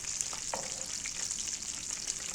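Chicken pieces frying in a small amount of oil at home, a steady bright sizzle with crackle running throughout, close and continuous with occasional stirring clinks.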